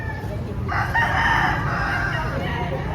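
A gamefarm rooster crows once, fairly close, over low background rumble and faint murmuring, followed by a second more distant crow.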